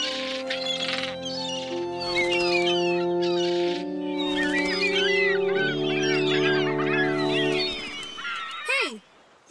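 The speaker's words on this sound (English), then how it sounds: "you squawked for your friends" Cartoon character squawking and honking like a goose over sustained musical tones, rapid bursts of calls that fade toward the end.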